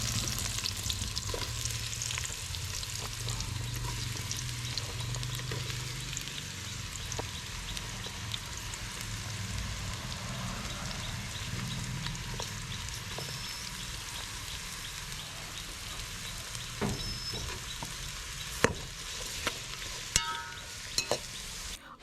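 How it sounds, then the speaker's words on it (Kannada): Chopped onions fry in hot oil in a pot, a steady close sizzling hiss that holds throughout, with occasional light pops and brief utensil scrapes near the end. "ಇದಕ್ಕೆ ಸ್ವಲ್ಪ ಎಣ್ಣೆ ಹಾಕ್ಕೊಂಡು ಎಣ್ಣೆ ಬಿಸಿ ಆದಮೇಲೆ ಈ ಕಟ್ ಮಾಡಿರುವಂಥ ಆನಿಯನ್ನ ಹಾಕ್ತಾ ಇದ್ದೇವೆ"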